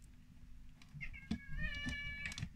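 A pet cat meows a few times indoors, short rising and falling cries in quick succession, fairly close but soft, over a steady low hum of room noise.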